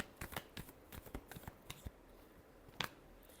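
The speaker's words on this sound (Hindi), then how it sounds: "last shuffle," Tarot cards are shuffled in a quick run of crisp, close riffling snaps, about a dozen brisk flicks followed by a short pause and one final sharp slap; no voice is heard.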